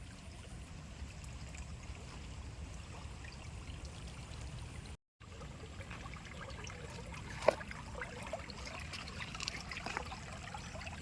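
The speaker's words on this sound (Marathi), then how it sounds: "पूर्ण वाहून चाललं आहे पाणी" Rainwater running across a flooded rice paddy in Konkan after heavy rain at harvest time, a steady low rushing trickle that continues throughout at moderate distance, with a brief cut partway through.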